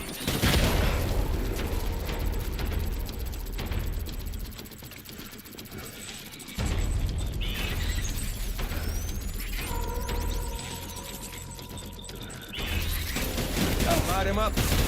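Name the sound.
gunfire in the video game Death Stranding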